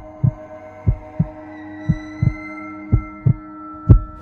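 Heartbeat sound effect for a horror story, a loud close thumping in steady pairs of beats over a low continuous hum, with no talking.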